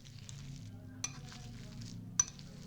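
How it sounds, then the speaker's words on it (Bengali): Boiled potatoes being mashed with a hand masher: a steady, soft squishing churn close by, broken by two sharp clicks of the masher against the bowl. "একটা ম্যাশার দিয়ে আলুগুলো ম্যাশ করে নেব"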